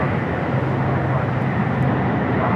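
A jet airplane taking off from a runway at LAX, its steady, loud broadband roar filling the whole stretch without a break.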